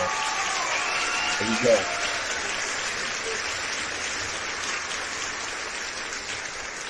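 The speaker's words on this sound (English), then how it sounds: "So please, let's welcome him with a warm applause." Audience applause and cheering fill a big room as a guest is welcomed onto a live freestyle showcase interview, steady broadband clapping throughout with a brief voice speaking over it.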